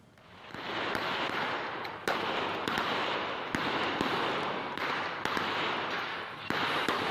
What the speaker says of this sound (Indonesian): Polisi terpaksa melepaskan tembakan untuk membubarkan sekelompok orang